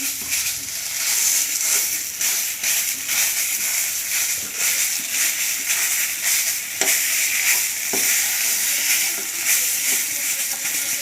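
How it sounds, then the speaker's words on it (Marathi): Khoa (250 grams) roasts in a pan over low heat, producing a continuous dense sizzle and hiss with scraping stirs throughout, no talking. "त्यासाठी आपण पॅनमध्ये हा मी अडीचशे ग्रॅम खवा घेतला आहे तो आधी भाजून घ्यायचा आहे"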